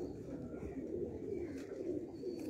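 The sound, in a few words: pigeons cooing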